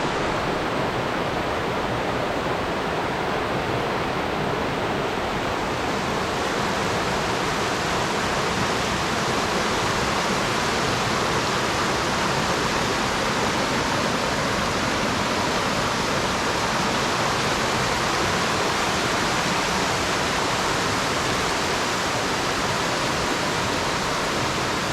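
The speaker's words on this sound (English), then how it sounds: "the water is coming out of the ground and flowing into this river" Water pours steadily from the ground into a river at a Koh Chang waterfall, a dense, continuous rushing hiss heard up close and loud, unbroken throughout with no voices.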